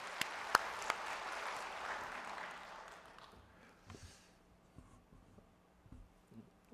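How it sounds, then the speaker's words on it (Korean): Applause from a church congregation at Sunday service rises, then thins out over a few seconds, leaving faint scattered claps and rustling. "우리 주님께 말씀을 기다리면서 박수로 인사하겠습니다"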